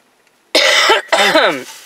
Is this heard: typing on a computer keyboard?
no